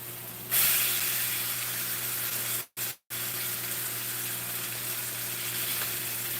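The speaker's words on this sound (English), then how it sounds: "this is the first time I've actually pan-fried skinless salmon" Skinless salmon pan-frying, a steady loud sizzle and hiss of hot oil that bursts up sharply at the start and runs on alone, with two brief dropouts midway.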